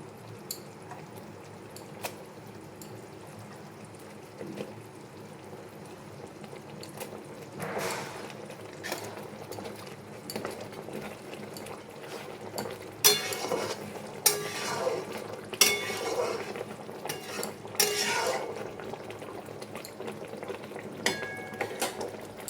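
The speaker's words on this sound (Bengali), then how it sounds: "এর মধ্যে দিয়ে দেবো মাছগুলো" Rohu fish pieces go into cooked masala in a pan and are stirred for doi rui. A soft simmering bubble sits under scattered spoon scrapes and metal clinks that grow busier toward the end.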